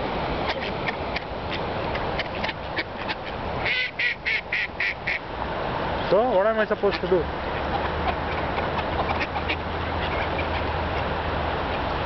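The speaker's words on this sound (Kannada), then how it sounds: "All the ducks of Finland are here again." Ducks in Finland quack in quick repeated bursts, some close and loud, others scattered around, while a person talks over part of the scene.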